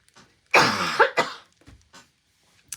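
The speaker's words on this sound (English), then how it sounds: "excuse me, I have to cough." A single harsh, throaty cough bursts out loud and close, followed by a few softer breathy catches and small throat noises before quiet.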